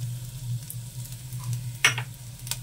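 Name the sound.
ground spices sizzling in oil in a kadhai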